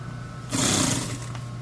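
Sewing machine top-stitching a motorcycle seat cover, a close, brief mechanical whir of running stitches over a steady background hum, lasting under a second before easing off.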